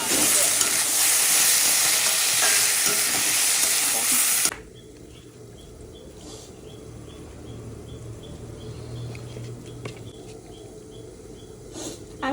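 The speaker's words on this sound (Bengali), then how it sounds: "বাটা মাছে একটু লবণ হলুদ মাখিয়ে নিয়ে ভাজবো" Bata fish coated in salt and turmeric fries in hot oil, beginning with a loud, dense sizzle that drops suddenly to a softer, steady crackle. Faint clinks come through now and then.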